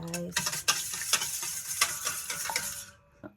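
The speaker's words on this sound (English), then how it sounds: "Using my hand wicks, I'm just gonna whisk this" Brownie batter with about a tablespoon of vanilla stirred briskly by hand with a whisk, a close, steady scraping and swishing that runs continuously for about three seconds before stopping.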